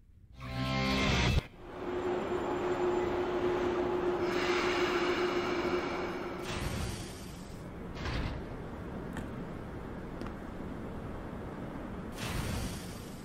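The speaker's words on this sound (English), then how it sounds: "And we're getting off the train!" A train ride in the video game No More Heroes: a steady, rushing rumble with a faint tonal hum, broken by a few clunks and shifts, with a louder burst at the start and near the end.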